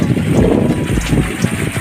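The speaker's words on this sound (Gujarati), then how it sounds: "પાણી જઈ રહ્યું છે" Irrigation water flowing along a farm channel, a continuous close rushing and gurgling wash with some wind buffeting the microphone.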